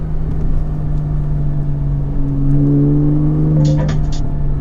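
A 2006 Porsche Cayman heard from inside while driving gives off a low, steady engine hum and drone that swells slightly midway, with a brief higher burst near the end. No one speaks.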